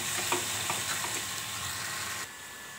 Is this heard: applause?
no